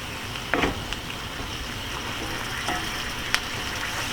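Squid simmers in a sweet, spicy sauce on the stove with a low, steady bubbling sizzle, broken by a couple of faint utensil clinks.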